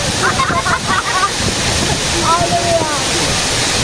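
Waterfall at Sungai Kooi in Royal Belum, a loud, steady, close rush of falling water that fills the whole clip, with indistinct voices partly heard beneath it.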